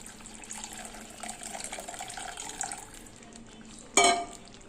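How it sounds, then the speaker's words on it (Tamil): Tamarind water pours steadily into a pot with a soft, continuous rushing splash, ending in a brief louder splash and clatter. "இப்போ நம்ம புளி தண்ணி ஊற்றிக்கலாம்"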